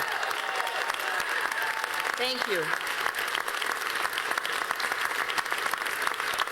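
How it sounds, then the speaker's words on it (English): Campaign supporters at an election night gathering clap and cheer continuously, a loud, dense wash of applause with a short spoken thanks heard partway through. "let's give yourselves a huge round of applause for what you've done"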